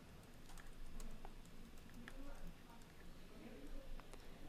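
Keys clatter on a computer keyboard in a quick, uneven run of soft taps, fairly quiet and close, with a person speaking over them.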